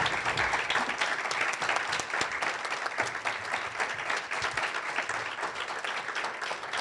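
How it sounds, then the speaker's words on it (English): Panelists at a patient-focused drug development meeting on hypoparathyroidism receive a sustained round of applause from the audience, a dense, even clapping that holds for about seven seconds without talk. "we need to give you a great big round of applause to say thank you"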